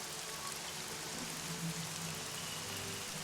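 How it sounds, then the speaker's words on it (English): Gentle rain patters steadily as background ambience for a fantasy tabletop role-playing game, a soft continuous hiss with a faint low hum beneath, no voices. "Your conspiracy is covered by the gentle sounds of rain as the clouds finally make their way above the disorder and break"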